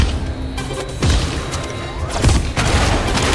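A potato gun firing in a Serious Sam game, heard as a few heavy booming thumps with crashing debris amid loud, busy in-game noise.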